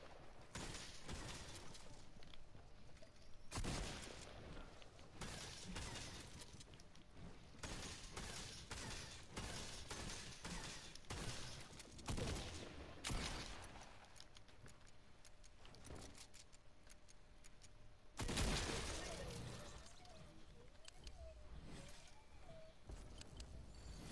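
Video game gunfire sounds as bursts of sharp shots and rapid volleys that come in clusters over a quiet background, with longer loud stretches near the start and again later.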